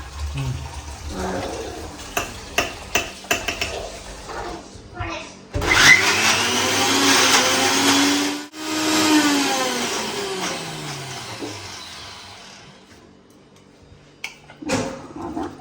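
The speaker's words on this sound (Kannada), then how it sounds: "ನಾನು ಹಿಂಗೆ ಆಫ್ ಮಾಡಿ ಹಾಕ್ತೀನಿ, ಇಲ್ಲ ಮಿಕ್ಸಿ ಹಾಳಾಗೋಗುತ್ತಲ್ಲ." A kitchen mixer grinder runs in two loud back-to-back bursts, whirring up and winding down, with quiet talk and clatter before and after.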